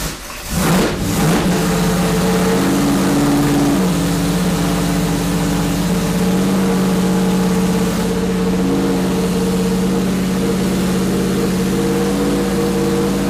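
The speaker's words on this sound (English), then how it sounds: "these two motors are being dynoed with the exact same oil, the exact same spark plugs, same headers, same carburetor." A GM 602 racing crate engine with carburetor and headers runs on a dyno. It barks and revs up at the start, then settles into a loud, sustained, even roar at close range.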